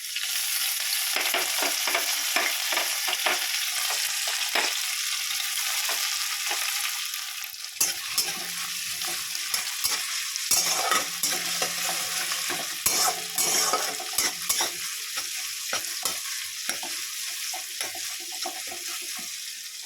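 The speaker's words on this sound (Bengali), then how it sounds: "আদা আর কাঁচা লঙ্কা একটু ভাজা ভাজা হয়ে গেলে" Crushed ginger and green chilli fry with black cumin in oil, a steady sizzle under repeated scraping and stirring of a utensil in the pan. Water runs briefly in the background.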